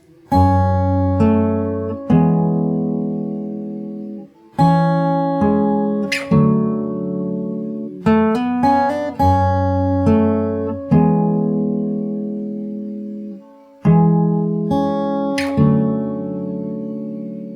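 Fingerstyle acoustic guitar plays an intro, plucked chords ringing out in phrases with short gaps, clear and close with no voices.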